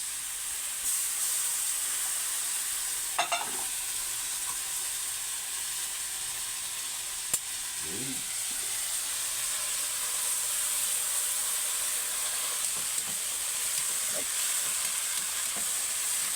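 Garlic and onion sauté in a hot pan, giving a steady, fairly quiet sizzling hiss throughout, with a few faint clinks and stirring scrapes now and then.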